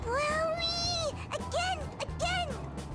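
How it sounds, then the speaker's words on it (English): A cat toy from Persona 5 Royal gives out three rising and falling synthetic meows when its head is pressed, one long cry and then two shorter ones, close and clear over a low background hum. "it's just a toy. It meows when you press on its head"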